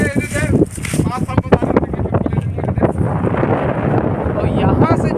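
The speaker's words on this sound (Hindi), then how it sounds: "देखो कितना जोरदार हवा चल रही है" Strong wind gusting at Mongra dam, a loud roaring rumble buffeting the microphone throughout, with someone talking over it.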